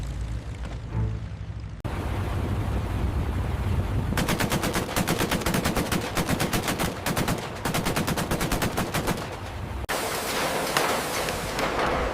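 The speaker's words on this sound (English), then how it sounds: "Those guns, we called them Roosevelt's piano. Once you heard that sound, you never forgot it." Eight wing-mounted .50 caliber machine guns of a P-47 Thunderbolt fighter firing in long, dense, rapid bursts, loud and continuous, with brief breaks between sustained streams of fire.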